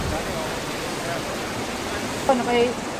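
River water flows steadily in a broad, constant rush at a swimming spot in New Zealand, with a voice briefly rising over it near the end.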